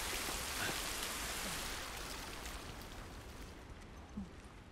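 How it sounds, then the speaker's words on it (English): Steady rain patters and hisses continuously in the video game The Last of Us, a dense, even wash of drops that fades slightly toward the end. "At least we're out of the rain."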